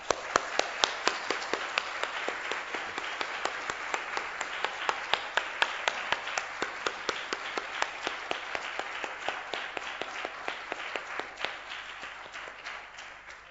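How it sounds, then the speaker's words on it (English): An audience at a physics lecture on gravitational waves claps for the organizers, a dense, steady patter of many hands that holds for over ten seconds before thinning out near the end. "So if we could have a round of applause for the organizers."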